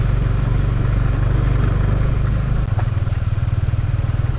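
A motorcycle rides a forest road through Madhupur National Park in Tangail on a rainy day, its engine droning loud and steady close by, shifting to a rougher pulsing beat partway through.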